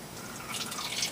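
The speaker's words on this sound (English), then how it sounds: "as long as it's putting hot water through it right there for you" Hot water from a tap gushes through a Mosin rifle barrel being flushed after surplus ammo, a steady close hiss and splash of running water.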